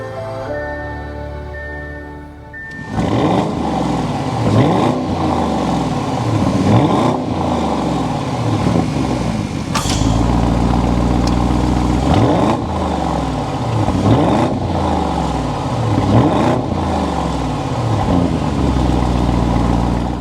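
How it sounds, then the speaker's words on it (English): A 2023 Audi SQ8 twin-turbo V8 fires up after a starter chime and settles into a loud, deep exhaust note, close by, with repeated swelling revs. "start it up so you can hear that exhaust note"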